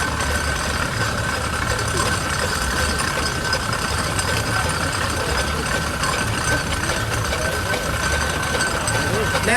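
A steam traction engine running at the Parham steam fair in Sussex, a steady continuous mechanical rumble with a rhythmic knocking texture, close and fairly loud, with voices talking faintly under it.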